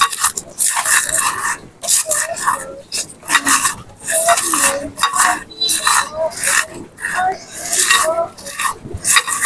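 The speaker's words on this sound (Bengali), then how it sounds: "বন্ধুরা আলু ভর্তা করবো, সেই জন্য মরিচগুলো ডলে নিলাম।" Chilies rubbed and mashed by hand for potato bharta, giving a steady run of close, gritty rasping and squishing strokes with soft clicks in between.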